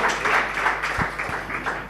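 An audience applauds during a Jain religious discourse, a steady wash of hand claps with no pauses, moderately loud and filling the room.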